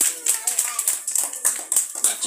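Clapping at a six-year-old's birthday party, a run of quick, uneven handclaps from a small group close by, mixed with bright chatter and children's voices.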